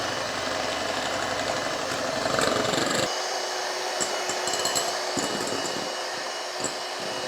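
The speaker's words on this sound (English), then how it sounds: "Now we will start beating the 4 egg whites. Beat it stiff." An electric hand mixer whirs steadily while beating four egg whites to stiff peaks, the motor tone shifting partway through as the beaters work the bowl, with no talk.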